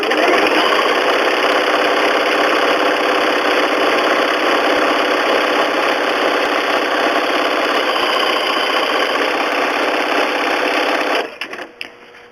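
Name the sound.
sewing machine satin stitching an applique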